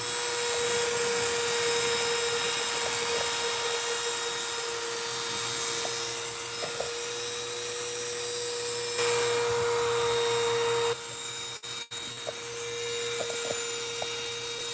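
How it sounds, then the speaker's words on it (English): A homemade hand carving chisel tip being sharpened on a powered grinder or sharpener, giving a steady, loud motor whine with bright high tones throughout, a brief dropout near the end, and no talk. "So right now I'm sharpening up the tip."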